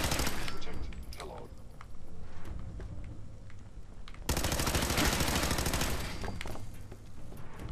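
Rapid gunfire in Fallout 4 rattles almost nonstop at close range. A lighter stretch early on gives way to a louder, denser barrage through the second half.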